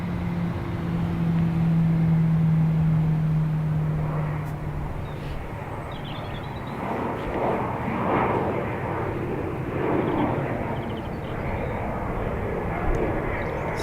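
A SunExpress airliner, likely a Boeing 737, arrives at Dublin Airport with a loud, steady engine roar that holds for the whole stretch, rising to a strong tonal whine early on before settling into a broad rumble.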